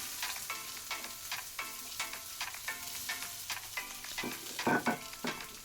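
Onions, garlic and mustard seeds frying for a potato sabji, with repeated scraping stirs of a spatula in a pan over a soft sizzle, the strokes coming in an irregular rhythm and fairly close.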